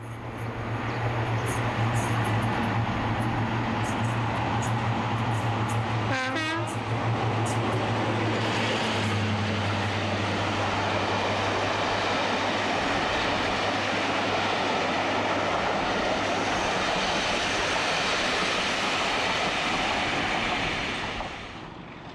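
A classic British diesel locomotive runs with a steady, heavy engine drone and a low hum throughout, loud and close, with a brief rising whine partway through.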